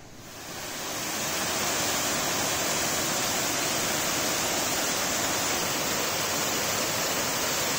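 A waterfall roars steadily, a broad, loud rushing wash that swells in over the first second and then holds constant and close, with no voices.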